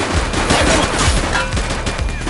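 Rapid gunfire in a video game police shootout with armed suspects, a dense, continuous barrage of overlapping shots and bursts that stays loud and close throughout.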